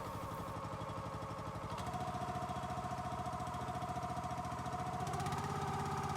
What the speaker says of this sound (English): So obviously this engine it needs a little gas and a little choke. It starts right up.